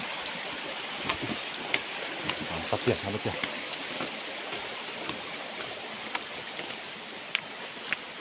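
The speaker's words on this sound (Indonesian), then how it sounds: "Sahabat, di sana ada sungai ya sahabat ya." A river flows in a steady, broad rush of water outdoors, with someone talking briefly over the constant sound.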